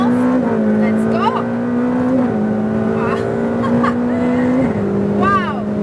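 Ferrari F8 Tributo engine droning loud and steady from inside the cabin, with a shift-like step in pitch and a voice talking over it.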